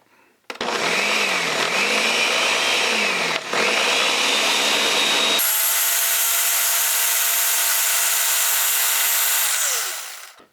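A blender grinds seeds in coconut milk for a fruit smoothie. It starts abruptly, whirs loudly and steadily, shifts to a higher, harsher speed partway through, then winds down.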